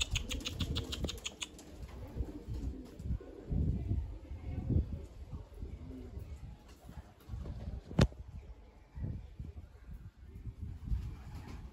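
Young homing pigeons cooing softly and fluttering their wings in a loft, with low murmuring calls running throughout, a few wingbeats near the start, and a sharp knock partway through.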